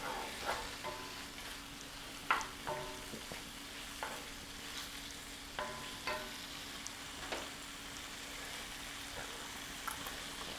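Fresh cilantro and vegetables, including tomatillos and banana peppers, sizzle in a pan, a soft continuous frying hiss broken by repeated scraping stirs and small clatters, no talking.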